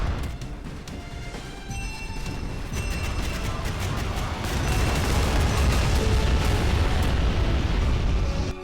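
A nuke bomb detonates in the naval combat game Modern Warships, producing a deep, sustained rumbling roar that swells and stays loud for several seconds.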